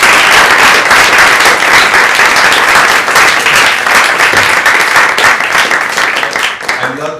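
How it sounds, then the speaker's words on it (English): An indoor audience at an evening conversation event gives sustained, dense applause lasting about seven seconds, loud and close, fading slightly at the end. "she deserves a full round of applause"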